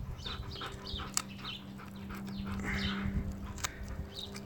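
A Siberian husky gnawing on a bone, with scattered cracking and crunching bites over a soft steady hum, fairly close and irregular in rhythm, with no talk.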